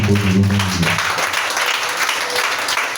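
A church congregation at a fasting and prayer service breaks into applause: a brief voice at the start gives way to sustained, dense clapping that fills the room.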